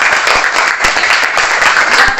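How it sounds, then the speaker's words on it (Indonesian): Classroom applause for a student group, a short burst of clapping with a few sharper claps standing out, fairly close and steady for about two seconds. "tepuk tangan untuk kelompok 1"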